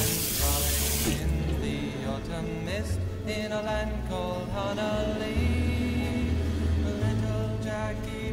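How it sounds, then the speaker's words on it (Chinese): Hot tap water runs steadily into a traditional iron wok as it is rinsed clean, a loud continuous splashing rush close by with shifting tones as the stream strikes the metal, and no voices. "用热水将锅洗干净，只用清水。"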